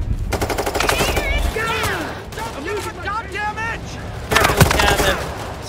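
Bursts of automatic gunfire from a bank robbery shootout in Payday 3, loud rapid rattles at the start and end with quieter stretches between, while voices talk over the shooting.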